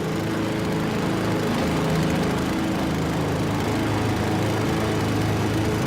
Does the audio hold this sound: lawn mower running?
yes